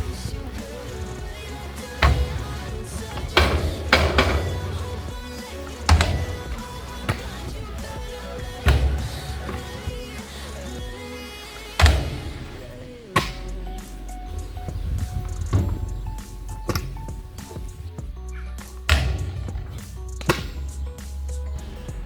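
Skateboard tricks on flat ground and a curb at a skatepark near Béziers: repeated loud board pops, slaps and landings at irregular intervals, with wheels rolling between them and faint voices in the background.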